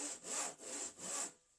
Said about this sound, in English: You want to keep your saw nice and low so as you're cutting using all the teeth